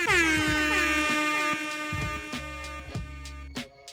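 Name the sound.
air horn sound effect from DJ software sampler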